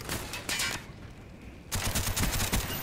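Gunfire from a sniper rifle in the Black Ops video game, with loud sharp shot bursts at the start and a dense run of shots in the last second, a quieter lull between them and no talk.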